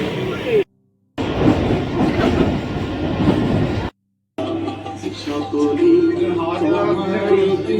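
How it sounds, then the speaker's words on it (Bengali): A train bound for Bardhaman runs through dense, cold winter fog, giving a steady loud rumble and clatter of wheels on rails that continues throughout, broken by two brief silent gaps. "একই ঘন কুয়াশার মধ্যে ট্রেন চলল"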